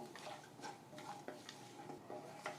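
Whole spices (bay leaf, star anise, cardamom, cloves, kalpasi) being stirred in hot oil for poha biryani, giving faint, irregular scraping strokes with a soft sizzle, a utensil clinking against the pan every half second or so.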